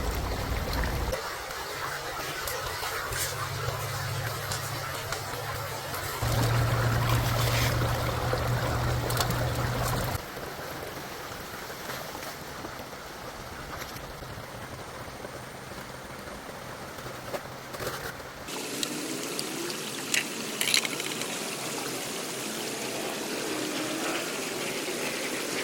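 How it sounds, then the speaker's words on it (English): Steady rushing water pours through a gold prospecting sluice outdoors, a continuous broadband wash with shifts in flow and a low pump-like drone at times, no talk. "Let's see how much gold he can get running the sluice."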